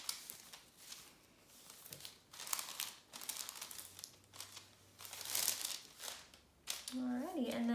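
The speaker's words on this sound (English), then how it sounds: "just smoothing that transfer paper onto the skin" Tattoo transfer paper is smoothed by hand onto skin, giving soft crinkling and rubbing strokes in short, irregular bursts at close range, with a voice talking over them.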